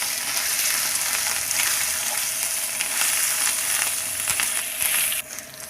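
Curry leaves, ginger pieces and asafoetida tempering in hot oil for tamarind rice, a loud, continuous close-up sizzle and crackle with occasional stirring clinks before it drops off abruptly.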